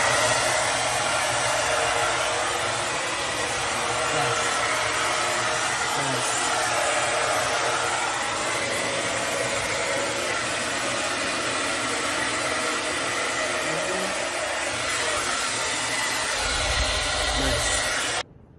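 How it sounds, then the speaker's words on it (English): A handheld blow dryer drying wet hair runs as a steady, loud, continuous whoosh for the whole stretch, then cuts off abruptly at the very end. "I got a nice little blow dryer and"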